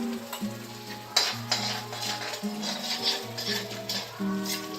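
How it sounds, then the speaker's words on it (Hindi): Masala spices fried and stirred in a kadai for dhaba-style kadai paneer, a steady low sizzle with scraping stir strokes and light utensil clinks, close by, while a tonal melody plays throughout. "मसाले को भूनते रहिए। 2-4 मिनट के लिए भूने।"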